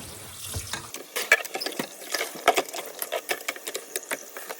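Raw red meat being rinsed by hand in a bowl of water, with close splashing and sloshing that comes in short, uneven bursts. No one speaks.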